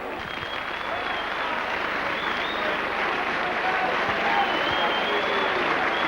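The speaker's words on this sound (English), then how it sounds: "They applaud the crowd, and why not indeed?" Steady applause from a rugby league crowd at a St Helens versus Doncaster cup match, a dense even wash of clapping throughout, with a commentator's voice faintly underneath.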